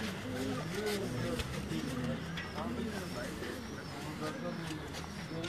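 Pigeons coo softly and repeatedly in a loft near Islamabad, their low rolling calls overlapping under people talking nearby, with faint background noise throughout.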